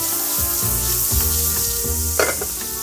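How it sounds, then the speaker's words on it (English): A smashed burger patty sizzling on a hot griddle beside caramelizing onions, a loud steady hiss and crackle with a few scraping stirs, no voices. "Look at that burger there, it's cooking."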